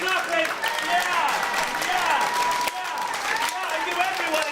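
Continuous crowd clapping at a live stand-up comedy gig, a dense even wash of applause with whoops and a loud voice shouting over it.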